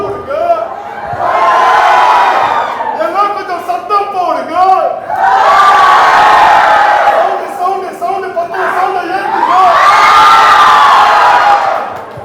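A large crowd at a film event cheers and shouts in loud, sustained waves, swelling three times with whoops and yells rising over a continuous roar.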